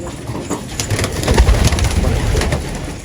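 Pigeons, prized racing birds released outside, give low soft coos amid rustling and scuffling of wings and feet, close by and continuous, swelling slightly in the middle.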